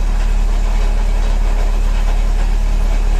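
A Mercedes CLK idles with a steady low engine rumble, a faint metallic rattle from the clutch and flywheel running continuously through the drone.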